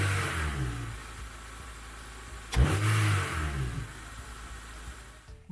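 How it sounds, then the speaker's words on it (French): A Honda K20 engine in a naturally aspirated car, run without its air filter, idles with a low steady rumble, then gives one sharp, loud rev that swells and slowly falls back to idle, close by. "T'as envie de démarrer la voiture sans le filtre à air."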